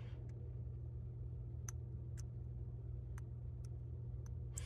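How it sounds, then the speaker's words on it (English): The eyepiece of a low-quality PVS-14 night vision device catches as it turns over a large mold seam, giving faint, sharp, irregular clicks over a steady low hum. "You can tell that the jumping sound is more distinct because the seam is a lot bigger."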